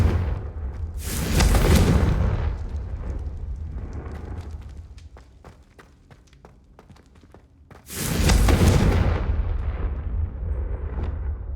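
Confringo blasting-spell explosions in the Hogwarts Legacy video game: two heavy, booming blasts roughly six seconds apart, each loud and close with a rumbling tail, separated by quieter crackling effects.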